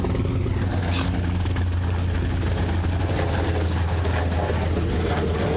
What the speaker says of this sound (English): Dang, you see all these damn helicopters.